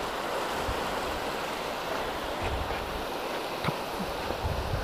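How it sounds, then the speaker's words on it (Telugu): River water rushes against bridge pillars in a steady, broad roar, with wind buffeting the microphone and occasional small splashes standing out. "ఈ పిల్లర్స్కి చూడండి వాటర్ ఎలా తగులుతుందో సౌండ్."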